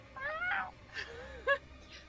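A human voice imitates a muffled cat meow, giving a couple of soft, whiny mews with brief breaths between them, quiet and close.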